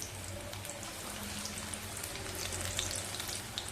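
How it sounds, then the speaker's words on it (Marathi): Spinach pakoras deep-frying in hot oil, a continuous crackling sizzle with small bubbling pops and no voices. "भजी घालायची आणि नंतर मध्यम करून छान असे कुरकुरीत तळून घ्यायचे"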